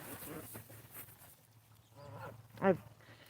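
Canada, African, hybrid and cackling geese give faint, scattered calls before one loud, abrupt honk rings out near the end.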